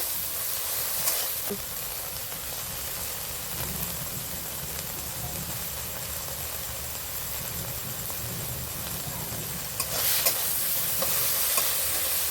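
A Bengali cooking spice paste of cumin and coriander with fennel seed being fried and stirred in a little oil in a pan, a steady close sizzle with scraping strokes of the spoon, brighter bursts near the start and end.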